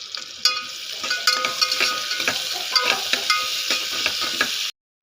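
Onions and moong dal, with dry red chillies and curry leaves, being stirred in a hot pan: a steady sizzle with repeated scraping strokes of a spoon, close and fairly loud, cut off abruptly near the end.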